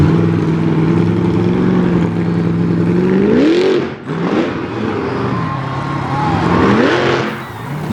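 A monster truck with a 540 cubic inch engine revs loudly at close range on a stoppy ramp during a freestyle trick competition, its engine note holding steady, dipping briefly, then surging and climbing again.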